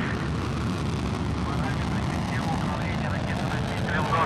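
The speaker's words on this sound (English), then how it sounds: "Liftoff of the 75th Progress resupply ship on a fast-track two-orbit flight to the" A Soyuz 2.1A rocket lifts off from the Baikonur Cosmodrome carrying the Progress MS-14 resupply ship, with a dense continuous rumbling roar and a commentator talking over it.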